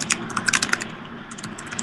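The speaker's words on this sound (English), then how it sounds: "I hear Walt clacking at the keys" Quick clacking keystrokes on a computer keyboard, bursts of close taps with short pauses, fairly quiet and with no voices.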